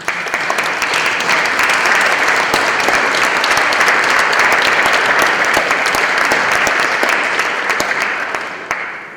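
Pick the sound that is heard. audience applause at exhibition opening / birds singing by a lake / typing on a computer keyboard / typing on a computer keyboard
audience applause at exhibition opening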